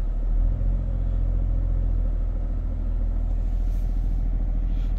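A parked Toyota Hyryder strong hybrid runs its engine to charge the battery, producing a close, steady low rumble that is deep and unbroken throughout.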